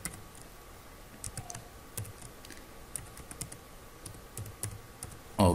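Someone types a password on a PC computer keyboard, producing sparse, quiet key clicks in short irregular bursts over a faint background hum, ending with a louder clack.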